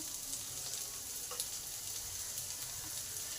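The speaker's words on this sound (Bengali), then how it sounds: "পেঁয়াজটা তাড়াতাড়ি ভাজার জন্য স্বাদ অনুযায়ী নুন দিয়ে দিলাম" Chopped onions with salt fry gently in a pan for a banana-flower and mango bhorta, a soft, steady hiss with a faint tap or two, quiet and close, no voices.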